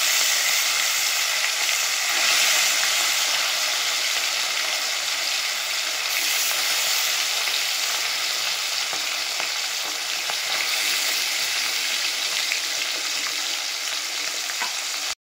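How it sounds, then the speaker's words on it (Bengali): Koi fish fry in hot oil, a loud, dense and continuous close sizzle with fine crackling that holds steady for the whole stretch without any voices. "একইভাবে সব কই মাছগুলো তেলের মধ্যে দিয়ে দেবো"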